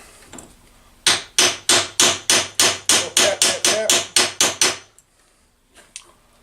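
A hammer strikes a wrist pin in a 1963 Evinrude Lark 40hp outboard engine about a dozen times in a steady, even rhythm, each tap sharp and ringing close by, then stops.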